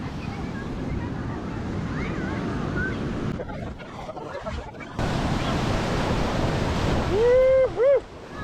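Ocean surf rolls in at Uvongo Beach on South Africa's South Coast as a steady, loud wash with wind buffeting the microphone, a brief dip midway and a short high whistle or call near the end.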